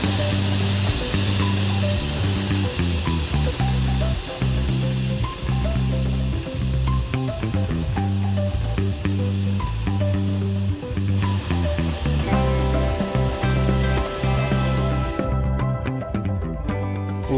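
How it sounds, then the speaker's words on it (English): An electric grinder milling nixtamalized corn with a little added water, a loud steady mechanical grinding roar with repeated clattering ticks, continuous throughout with no talk. "now that we have the corn here and everything is ready, we have the grinder set up"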